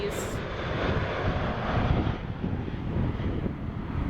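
Jet airliner powered by GE90 engines passing at Dulles airport, a loud, broad roar that swells and holds steady with wind buffeting the microphone throughout.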